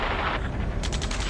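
Gunfire in a PS4 combat game: a quick run of rapid, crackling shots after a dense wash of battle noise, loud and close, lasting only about a second.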